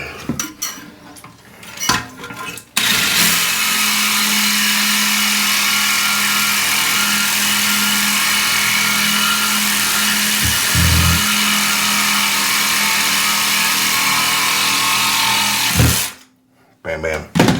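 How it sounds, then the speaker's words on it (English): A reciprocating saw (Sawzall) with a short blade cuts through a rusted toilet tank bolt underneath the tank, a loud, steady buzzing grind running for about thirteen seconds before stopping abruptly. "sawzall blade, and we'll go in underneath the tank right where the bolt is"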